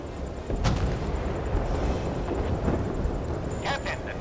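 Warship guns firing in a naval combat video game, heavy booming blasts over a rumbling battle ambience, with one sharp report early and several bursts near the end.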